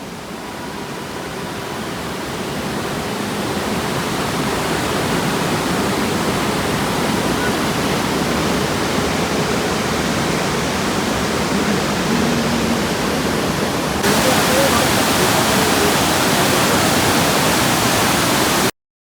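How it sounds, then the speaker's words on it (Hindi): A mountain river near Manali rushes in a loud, unbroken wash of white water, close by and filling the whole scene, with no other sounds standing out. "And just here this voice of the river."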